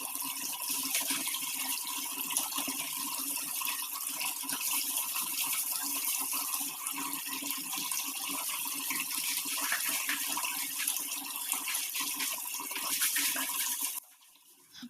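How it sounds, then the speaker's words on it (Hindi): Tap water runs steadily from a motor-fed line while an overhead tank fills, a loud continuous gush in a home kitchen that cuts off abruptly near the end. "ऊपर टंकी भरा रही है, तब तक ये नल चलेगा"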